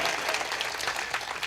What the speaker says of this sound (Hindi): एक बार जोरदार तालियां उनके लिए बजाइए